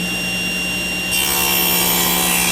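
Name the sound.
saw cutting a wooden board edge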